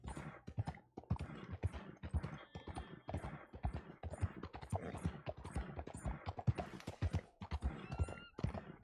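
Rapid, rhythmic hoofbeats of a tiring horse galloping in Red Dead Redemption 2, clear and close, pounding steadily with a brief gap near the start.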